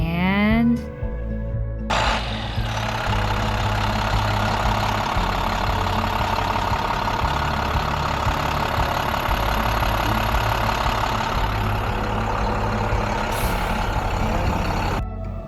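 School bus diesel engine cranks with a rising starter whine, catches after a couple of seconds, then settles into a loud, steady knocking idle that continues to the end.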